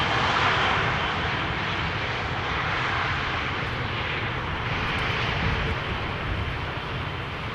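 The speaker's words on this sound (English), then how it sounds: "ELKX EasyJet arriving from Split in Croatia." An EasyJet airliner arriving at Amsterdam Schiphol Airport roars as a loud, continuous broadband rumble of jet engines, steady throughout with no voices.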